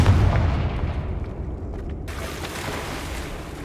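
A Confringo fire spell blast in Hogwarts Legacy, a loud low booming burst at the start that rolls off into a decaying rumble and crackle over a few seconds.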